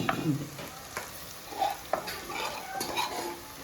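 Prawns fry in masala in a pan, giving a close, steady sizzle while a utensil stirs and scrapes with intermittent clinks against the metal.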